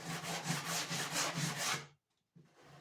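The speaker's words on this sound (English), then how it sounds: "now is a good chance to break in your new sanding block" A sanding block rubs back and forth across wood in quick, even rhythmic strokes, close and distinct, stopping briefly before one more stroke begins.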